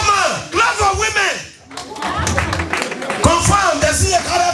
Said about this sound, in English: now woman, clap for women.